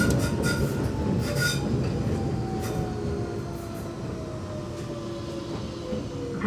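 A London Underground train running between Shepherd's Bush and White City gives a loud, steady rumble from up close, with drawn-out wheel squeals and no voices.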